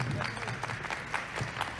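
An audience at a drama production's launch event claps to welcome the lead actor onto the stage, a faint, fairly distant patter of applause under ambient noise.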